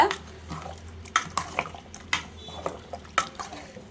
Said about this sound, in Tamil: எல்லா காயும் போட்டு மிக்ஸ் பண்ணிக்கோங்க